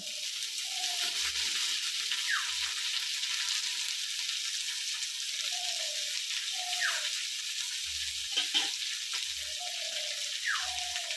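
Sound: chopped cabbage added to wok and stir-fried for veg chowmein

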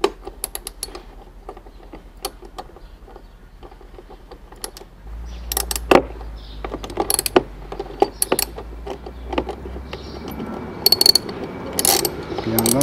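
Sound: ratchet wrench loosening bolts on a Beagle engine

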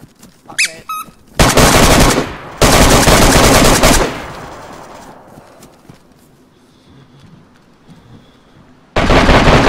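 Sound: gunfire in the video game DayZ

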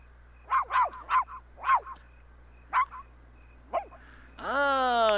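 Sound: dogs barking in video game The Sims 4

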